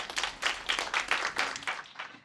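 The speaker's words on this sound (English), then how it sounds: "Let's give her a round of applause" Audience applause for a professor at a college African American Read-In event, a dense burst of many hands clapping that swells and then fades out over about two seconds.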